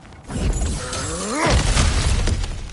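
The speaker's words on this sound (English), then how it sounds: "Ah, back to smashing through things for fun and profit." Objects smashed apart in God of War Ragnarök give a loud shattering crash of breaking wood and debris that lasts throughout, with a brief voice-like gliding tone and clattering fragments through the middle.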